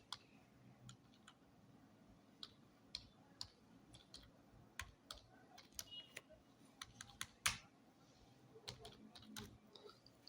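Quiet, close keystrokes on a computer keyboard while a PowerPoint presentation is being edited: irregular clicks and taps in short bursts with a few louder key presses, no talking.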